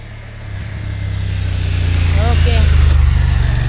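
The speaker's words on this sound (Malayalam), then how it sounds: "ബൈക്ക് വരുന്നുണ്ട്, ബൈക്ക് കാണിക്കണം" A motorbike draws closer on a road in Turkey, its engine a low steady drone that swells as it nears. A voice speaks briefly over the engine.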